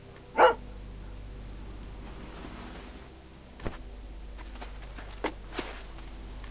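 A dog gives a single sharp bark near the start, followed by quiet background with a few faint taps and thuds.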